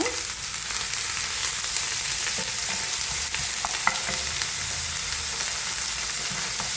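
A tinned fish cutlet mixture is stirred in a hot pan, making a steady frying hiss with scattered spoon clicks and scrapes, close up and without speech.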